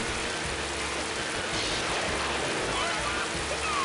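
Rain in Mickey's Speedway USA hisses as a steady, even wash of noise across the whole stretch, with a brief brighter swell midway and soft low engine rumble underneath.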